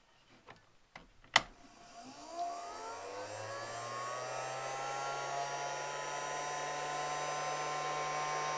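A heat gun starts with a click and spins up to a steady, loud whir. It runs on without a break while heat shrink tubing is shrunk over a running line for welding.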